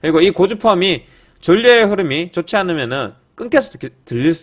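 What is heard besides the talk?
No everyday noises stand out.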